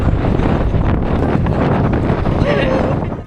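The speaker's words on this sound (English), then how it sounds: "Little windy!" Strong wind roaring and buffeting the microphone in the outback at Coober Pedy, Australia, a loud rumbling rush that stays constant throughout.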